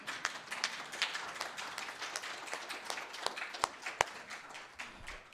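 A church congregation claps in acclaim during worship, a soft, steady patter of many hands heard from a distance with a few sharper claps standing out, no clear talk.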